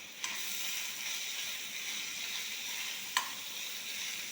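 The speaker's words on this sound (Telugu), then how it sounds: "తాలింపు వేసుకోవాలంటే దీన్ని ఇట్లా వేసుకొని ఆయిల్ వేసుకొని దాంట్లో" Tempering sizzles in hot oil, likely with curry leaves and dried red chillies, a soft continuous crackle heard close up. Two brief sharp clicks stand out against it, and nobody talks.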